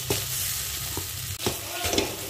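Pointed gourd stuffing is stirred in a pan, with scraping strokes at a steady rhythm over a continuous close sizzle and no voices.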